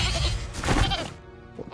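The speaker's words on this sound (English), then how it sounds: "Or turn it into a sheep." Sheep bleating in the video game Hogwarts Legacy, one wavering bleat lasting about a second, loud and close, followed by a quieter tail and faint background game sounds.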